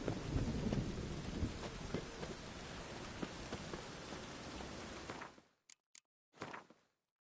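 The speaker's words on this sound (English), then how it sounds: "And it's raining again." Steady heavy rain in the game The Witcher 3: Wild Hunt pours for several seconds, a dense hiss with occasional louder spatters, then cuts off abruptly into near silence.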